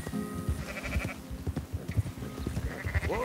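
Sheep bleat repeatedly in Red Dead Redemption 2, several wavering cries from a flock being herded, mixed with thudding hooves and movement sounds in a busy, close scene.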